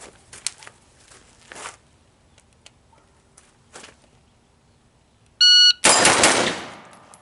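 An AR-15 rifle fires at close range, producing a sudden loud blast near the end that is followed by a decaying echo. Quieter scuffs and small handling noises come before it.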